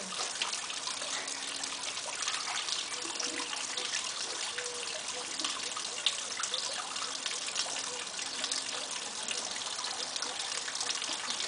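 Freshly harvested garden carrots are rinsed under running water, a soft steady trickle and splash that continues evenly throughout at low volume.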